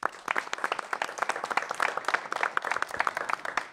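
A crowd at a live community broadcast in Rouzède applauds a piano player, many individual claps standing out in a lively, uneven burst that stays loud and close throughout, with no talking over it.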